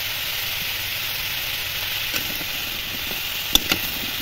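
Spices with turmeric stir-fried in hot oil, a steady bright sizzle with a few soft scrapes and one sharp knock from the utensil, close and without voices.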